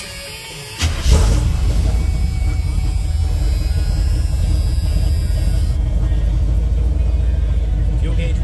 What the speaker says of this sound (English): We'll go ahead and fire it up.